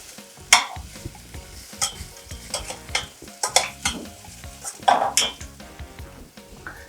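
French beans sauté in oil and butter in a pan, with a soft steady sizzle broken by sharp clinks and scrapes of a utensil stirring against the pan.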